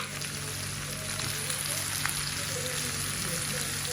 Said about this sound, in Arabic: نقلي الدجاج.